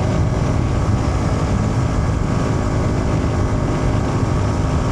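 A Suzuki V-Strom 250SX with a tuned ECU runs at full throttle on a highway climb, its engine a steady loud drone buried in heavy rushing wind noise without letup.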